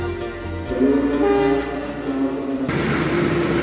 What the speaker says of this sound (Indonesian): Oke, kereta api Sawunggalihnya akan masuk.